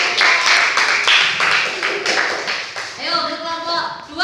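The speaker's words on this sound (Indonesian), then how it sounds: "Ayo, berikan tepuk tangan ayo." Audience in an Indonesian classroom presentation session clapping hands, a dense burst of claps at close range over the first three seconds, then fading as a voice begins talking.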